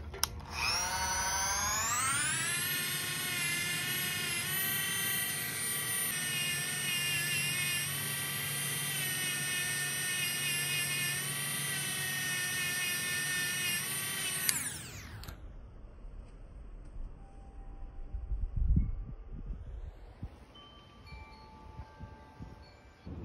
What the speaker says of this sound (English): I'm just gonna take a brass wire brush and clean up kind of the stem of these valves